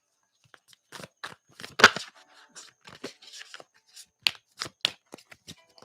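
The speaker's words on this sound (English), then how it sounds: "I'm going to go ahead and start shuffling already" Tarot or playing cards being shuffled by hand, a run of crisp riffling and slapping bursts with short pauses, close and fairly loud, no talk over it.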